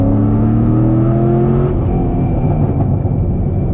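Dodge Hellcat engine accelerating in traffic while towing a trailer: a loud, close exhaust note rising steadily in pitch over a few seconds, then settling into a rough, throaty drone.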